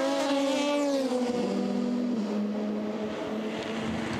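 GTE race cars screaming past at the 24 Hours of Le Mans 2020, loud high-revving engines with falling pitch as they sweep by one after another, then a steady engine roar fading into the distance.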